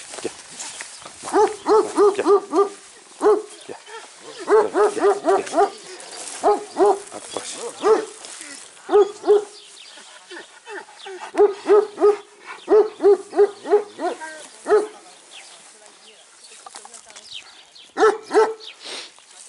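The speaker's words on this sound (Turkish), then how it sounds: "buradakiler de akbaş çoban köpekleri" Several Akbash shepherd dogs bark in repeated bursts of deep, resonant woofs, some clusters overlapping, with short pauses between volleys throughout.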